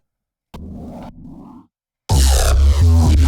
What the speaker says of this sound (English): we have this sound, which is a neurobass